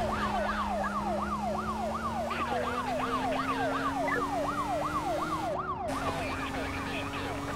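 Police car siren in a pursuit in the video game Need for Speed: Most Wanted, a steady rapid wailing yelp cycling over a droning engine, loud and continuous.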